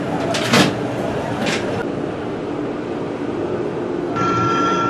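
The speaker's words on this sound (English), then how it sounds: "We jump on the tram and we start gaining altitude." A tram in Portugal climbs a hill with a steady mechanical rumble and rattle, broken by a couple of brief sharp clanks, and a thin high whine rises near the end.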